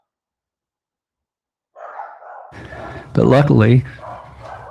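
Several pet dogs at a family home barking excitedly, a short run of loud close yaps that peaks in the middle, mixed with a voice speaking over them.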